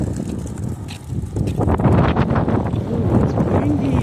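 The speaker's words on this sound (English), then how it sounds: "Ooh, it's windy." Gusty wind buffets the microphone on a cold, icy winter walk, a loud rough rushing that rises and stays strong, with a person's voice sounding faintly within it.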